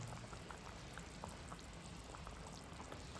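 Bonda kara kuzhambu, a tangy tamarind curry with fried lentil dumplings, simmering on low flame in a pan, a steady faint bubbling hiss with soft scattered pops and no voices.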